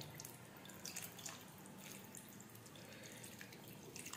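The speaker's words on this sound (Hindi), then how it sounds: "थोड़ा इसमें और पानी डालूंगा क्योंकि ये सूखने वाला है, और इस पे रख के पानी डालूंगा।" Water is poured over vegetables cooking in a pan on a home stove, a steady soft splashing and trickling with faint drips, fairly quiet and continuous, with no talking.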